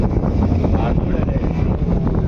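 Strong wind at sea aboard a fishing boat out squid fishing in a storm, a loud, constant roar of wind buffeting the microphone over low rumbling, with no clear speech.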